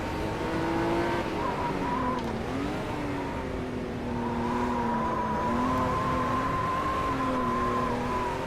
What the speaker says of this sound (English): Lots of squealing tires.